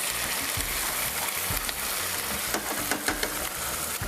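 Curry paste sizzling and frying in hot oil in a pan, a steady dense crackle with faint stirring clinks throughout.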